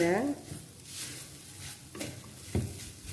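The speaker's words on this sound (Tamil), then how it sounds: "நெய்யில் இதை நல்லா வறுத்துக்கணும்" Tapioca pieces frying in ghee for a halwa, a faint sizzle with soft stirring scrapes and a couple of spoon taps against the pan, brief and quiet, with no talk.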